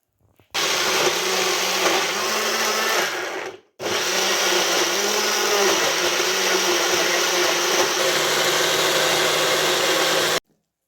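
Mixer grinder blending tomato and coriander leaves in a mixie jar, a loud continuous motor whir that stops briefly and restarts, close by.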